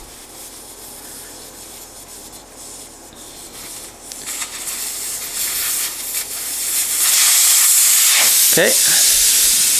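Air hisses out of a tire after its valve stem is removed, starting faintly and growing to a loud, rushing hiss, with a brief spoken word and some handling rustle near the end.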